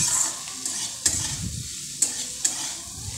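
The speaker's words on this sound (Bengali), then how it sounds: "এবার আমি গ্যাসের ফ্লেমটা হাইতে করে দিয়ে বেশ লাল লাল করে ভাজা করে নেব।" Bitter gourd and pumpkin fry on a high gas flame, with a steady close sizzle broken by sharp scraping stirs every half second or so.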